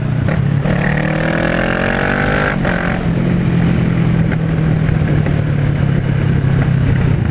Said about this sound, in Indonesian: Ternyata emang bisa dinikmati suara motor ini cuy.